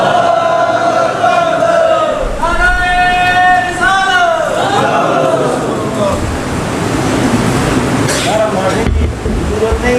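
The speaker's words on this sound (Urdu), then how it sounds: "ہم آپ کے نعرے کی قدر کرتے ہیں" An audience at a religious talk chants a slogan in loud unison, with rising, repeated vocal calls from many voices, followed by a broad roar of crowd noise that stays dense and close.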